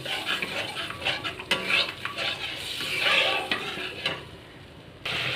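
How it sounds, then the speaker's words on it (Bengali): Dahi potol curry of pointed gourd in whisked yogurt, with water added, simmers and sizzles as a spoon stirs and scrapes the pot, with light metal clinks, close and continuous, with no talking. "আবারও একটু জল অ্যাড করবো আবারও কিছুক্ষণ কষাবো"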